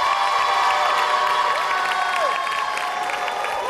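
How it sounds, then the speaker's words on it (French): A street dance competition audience applauds and cheers for a dance group, a dense continuous wash of clapping and crowd shouts at steady loudness throughout. "Vous pouvez leur offrir un maximum d'applaudissements s'il vous plaît."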